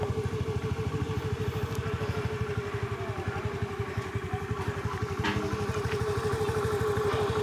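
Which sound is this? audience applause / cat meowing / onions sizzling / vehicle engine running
vehicle engine running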